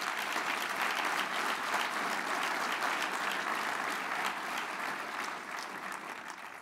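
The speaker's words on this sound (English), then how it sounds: "Let's have a round of applause for yourself." An audience at a heart ball gala claps in sustained, dense applause that fills the room at an even level before slowly tapering toward the end.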